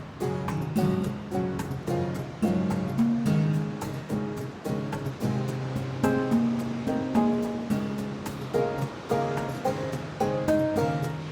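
Ocean waves on a Caribbean beach, surf washing in repeated rhythmic surges, overlaid by a prominent tonal music-like pattern through much of the passage.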